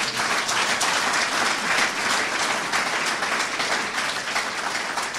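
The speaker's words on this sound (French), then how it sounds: "Acclamons fort le nom de Jésus." A church congregation applauds in a steady, dense wash of clapping during a French-language worship service, loud and continuous throughout with no talk over it.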